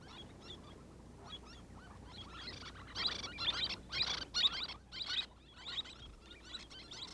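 Little terns at a small gravel river-island breeding colony give repeated shrill, high calls in clustered bursts, fairly close, over a quiet outdoor background.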